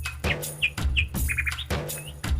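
Small songbird chirping in short, bright bursts, several tweets spaced through a couple of seconds over a low background hum, fairly close and clear.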